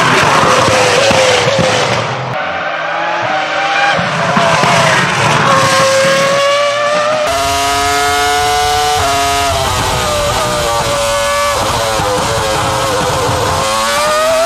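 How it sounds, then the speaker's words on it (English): A Ferrari F2004 F1 car with a naturally aspirated, rear-mounted V10 races in Assetto Corsa, its engine screaming at high revs. Loud, close and continuous, the pitch climbs through each gear and drops sharply at the shifts. "This beast of a car has a naturally aspirated Ferrari V10 engine that was rear mounted."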